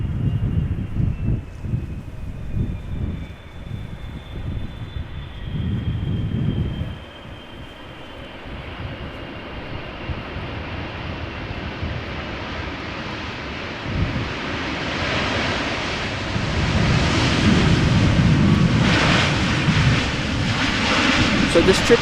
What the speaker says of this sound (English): So this 777-300 ER is just returning from Lima in Peru